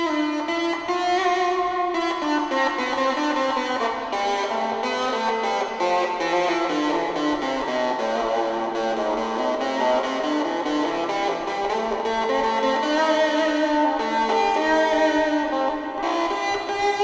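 A Umi Buzztone fuzz pedal with its buzz control cranked up drives an electric guitar into a thick, saturated, harmonically dense tone, loud and continuous with sustained chords shifting in pitch and no talking.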